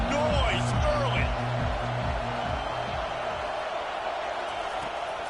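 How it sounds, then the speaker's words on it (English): Stadium crowd roaring at a Ducks vs. Mizzou college football game, a loud continuous wash of noise, with a booming public-address voice or music heard briefly at the start. "This crowd bringing the energy and noise early."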